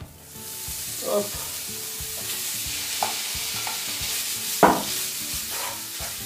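Bacon sizzles steadily in a pan while being stirred, with scraping utensil strokes and occasional louder clanks, close and continuous; a brief spoken word at the start.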